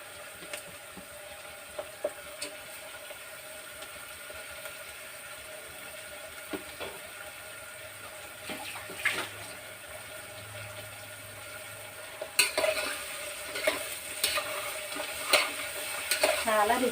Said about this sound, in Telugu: ఈ పచ్చిమిర్చి కాకరకాయ ముక్కలు వేసేసుకోండి,